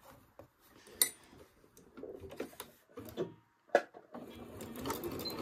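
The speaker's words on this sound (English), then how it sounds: "Let's go to the sewing machine." Sewing machine stitching a quilt block: quiet, uneven bursts of mechanical whirring and clicking, with sharp ticks and handling clatter between runs.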